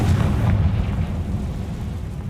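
A Confringo spell detonates in Hogwarts Legacy, a dense, rumbling blast with heavy low-end boom that rolls on steadily for a couple of seconds without fading.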